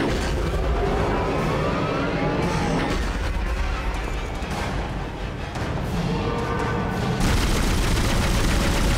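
Dense, continuous gunfire and heavy booms from the sci-fi survival horror game Dead Space, loud and sustained throughout with little letup.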